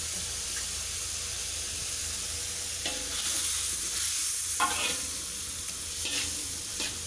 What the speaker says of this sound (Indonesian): Campurin santannya sedikit demi sedikit